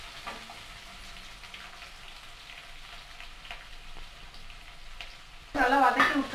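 Onions sautéing in oil with cumin and chana dal for an ivy gourd kootu, a low steady sizzle with light stirring, then a sudden loud burst of spitting crackle at the end.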